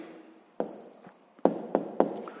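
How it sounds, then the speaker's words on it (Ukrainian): Someone writes an answer by hand, a few close pen or pencil taps and short scratchy strokes spaced irregularly, alone with no talk. "Записуємо відповідь."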